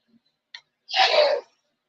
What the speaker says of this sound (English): my dad's in the background sneezing